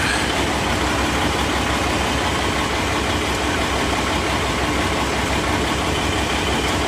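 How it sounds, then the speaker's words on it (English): Heavy trucks idling nearby, a loud continuous rumbling diesel drone with steady broadband engine noise throughout. "These noisy trucks are everywhere."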